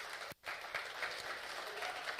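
Audience applause at a book launch, a sustained even patter of many hands clapping with a brief dip near the start, moderately distant and without speech.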